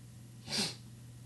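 A single short, forceful nasal blow or sniff, close and alone against a quiet background hum.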